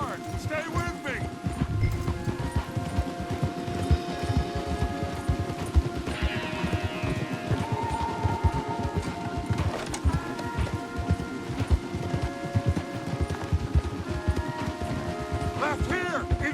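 Horses gallop hard in Red Dead Redemption 2, a fast steady drumming of hooves close by, mixed with rain and background score while characters talk over the ride.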